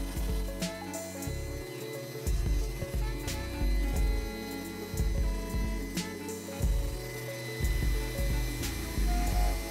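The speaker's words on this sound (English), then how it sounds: "I thought that vacuum was going to have a little bit more grunt." A steady mechanical whir with a low rumble runs throughout, fluctuating slightly in pitch and loudness, from a small vintage computer vacuum running nearby.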